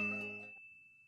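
A single bright electronic notification ding rings once and fades out with a long, thin tone, clear and alone.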